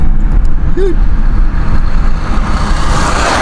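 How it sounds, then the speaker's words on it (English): A semi truck rolls past on an open road, a loud, close engine rumble and tire roar that swells and fades as it goes by, with a brief whistle-like squeal near the start. "Oh, we got the semi truck coming"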